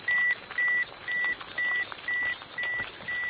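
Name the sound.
radiation detector beeping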